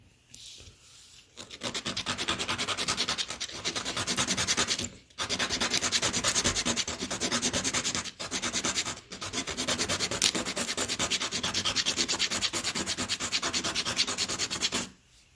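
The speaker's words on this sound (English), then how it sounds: "I'm just going to rub it against some sandpaper and round it over" Wood rubs back and forth against sandpaper to round over its edge for a DIY couch sleeve, steady rasping strokes with a few brief pauses, loud and close.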